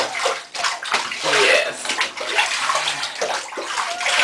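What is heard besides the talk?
bathing a cat in bathtub water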